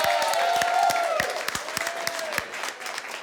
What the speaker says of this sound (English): You hear that loud applause?